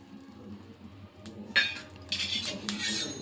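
Sesame seeds hit a hot pan for dry roasting, a quiet scatter of clinks and rustles followed by metallic scraping and stirring, with no talk.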